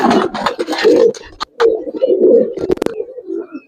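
Giribaz and coloured pigeons at a farm coo in a steady, throaty murmur, several birds overlapping close by with soft rolling calls and a few sharper clicks and rustles between them.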